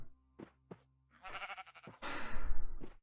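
A few short bleats from Minecraft sheep come close and fairly loud, broken by brief gaps, with a louder breathy burst near the end.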